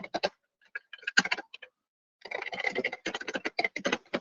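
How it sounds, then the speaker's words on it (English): Keys tapped on a computer keyboard during a Linux coding session, heard as irregular bursts of close, crisp clicks with a pause in the middle and then a faster, denser run of keystrokes. "typing so badly today. I was typing fine earlier."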